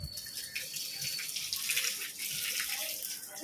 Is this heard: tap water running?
yes